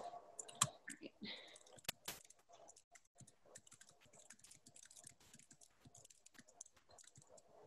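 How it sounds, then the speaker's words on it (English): Typing on a computer keyboard, with quiet, quick clicking keystrokes in irregular bursts close by, plus a few sharper taps near the start and no talk. "typing in this"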